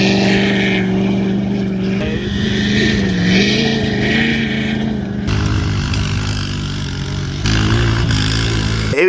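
Honda CR-V truck climbs a muddy mountain trail, its engine droning loudly and close, with the pitch shifting as the throttle changes and abrupt cuts between segments.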